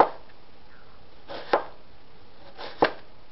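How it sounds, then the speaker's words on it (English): A kitchen knife, freshly sharpened, cutting up an onion on a cutting board: three separate crisp chops spaced about a second and a half apart, close and clear against a quiet background, with no talk. "This is one onion, and we're just going to cut it up."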